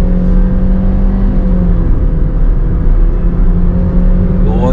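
A Suzuki Swift or Mazda2 sports-feel hatchback accelerates hard on a test drive, a loud sustained engine drone with steady tonal whine heard from inside the cabin, no speech over it.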